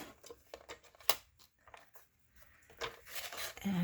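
Scissors snipping through paper scraps to cut strips about an inch and a quarter wide for shaker dangles, giving close, crisp cuts and rustles at an uneven pace, with no voices heard.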